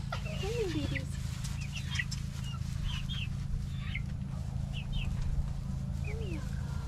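Chickens cluck and peep in scattered short bursts throughout, fairly close, over a constant low droning hum.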